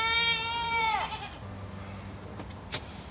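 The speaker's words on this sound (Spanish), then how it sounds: "Vamos a jugar con las cabras." Goats on a rural farm in Georgia bleat loudly up close, one long wavering cry falling away, followed by quieter low sounds and a brief sharp click.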